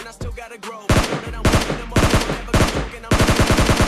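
Rapid gunfire from PUBG Mobile Lite cracks out in loud bursts of automatic shots, several quick volleys separated by short pauses, close and punchy with no talk over it.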